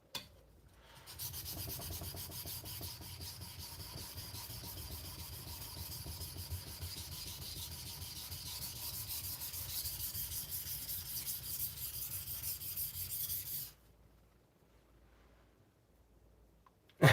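A 52100 steel knife blade is rubbed steadily against an abrasive for thinning and polishing, making a continuous close scraping rasp for about twelve seconds before it stops abruptly into near silence.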